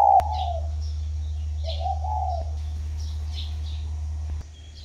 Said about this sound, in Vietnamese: Đây là trang trại chim cu gáy hay.